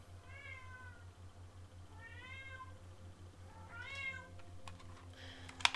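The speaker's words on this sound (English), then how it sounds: "There's my cat." A house cat meows three times in drawn-out, rising and falling calls, quiet and fairly close, over a low steady electrical hum, followed by light clicks and tapping like typing.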